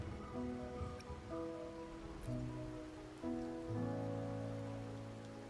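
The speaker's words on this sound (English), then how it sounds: "Or are you simply passing the time until the rain ends?" Steady rain patters on surfaces in the video game Wuthering Waves, a soft continuous wash under layered sustained music tones, with no one speaking.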